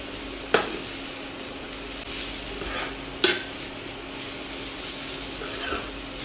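Food with cumin seeds sizzles steadily in a pan, close and moderately loud, with a couple of sharp clinks of a spoon against the pan.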